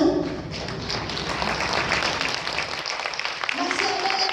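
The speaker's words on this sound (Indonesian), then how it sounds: "Boleh tepuk tangan?" An audience at a seminar gives a burst of applause, with dense clapping that thins toward the end while a voice speaks briefly over it.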